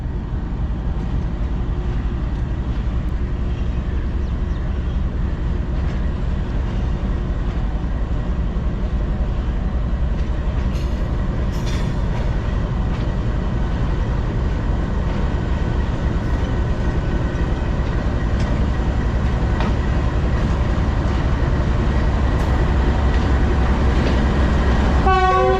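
Non-stop passenger train departing toward Lahore, a loud continuous rumble of wheels and carriages with steady rhythmic clatter close by, and a horn sounding near the end.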